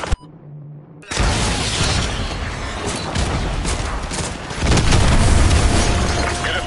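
AGM missile strike in a combat video game destroying a BTR armored vehicle: a brief quiet click, then a sudden massive blast that swells into a sustained roaring rumble and debris noise lasting several seconds.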